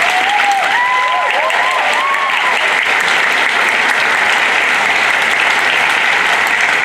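Audience applause at the Canadian Grand Masters Fiddle Competition in Kamloops, steady and dense clapping throughout, with a brief voice heard faintly over the start.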